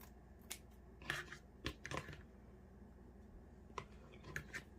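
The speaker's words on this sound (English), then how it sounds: "if there is any excess, then I just trim that off" Scissors trimming excess material from a handmade no-sew craft gnome, several quiet, close snips spaced irregularly against a faint room hum.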